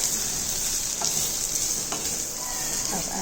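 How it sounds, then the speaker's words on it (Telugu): Papaya pieces and onions frying in a pan, stirred with a ladle: a steady close sizzle with a few faint scraping knocks of the ladle against the pan. "యాడ్ చేసుకుని మళ్ళీ ఒకసారి గరటపెట్టి వాటిని తిప్పుతూ ఉండాలి"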